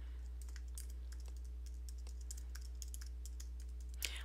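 Typing on a computer keyboard, a steady run of light, quick key clicks at close range over a low constant hum, ending with one slightly louder keystroke.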